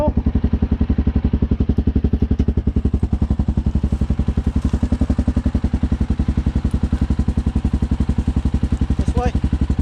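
ATV engine running steadily with a continuous low, rhythmic pulsing throb, close and loud for the whole stretch, a faint voice briefly audible near the end.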